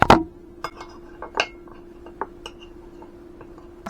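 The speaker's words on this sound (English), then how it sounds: "Give that a stir." Spoon clinking against a glass while stirring a low-carb drink with blueberries: one sharp clink at the start, then scattered light taps and chinks at an uneven rhythm, close and fairly quiet.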